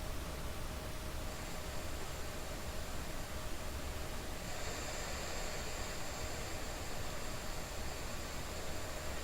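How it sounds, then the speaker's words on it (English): Steady hiss of white noise from a small battery-powered radio, unbroken and even throughout, with a faint high tone appearing partway through. "I just got a little battery-powered radio here, and we're going to grab some white noise."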